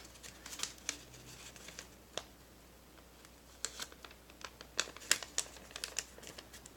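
Paper being folded and pressed flat into an origami crane, close, soft crinkles and sharp crisp rustles in scattered bursts against a quiet room.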